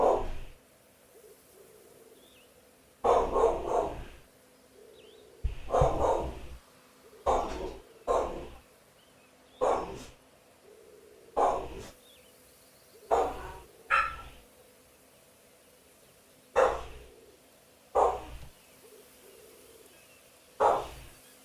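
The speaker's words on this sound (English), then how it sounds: "Hopefully the dog isn't too loud right now." A dog barks repeatedly at close range, a steady series of loud single and double barks spaced a second or two apart, with quiet room tone between them.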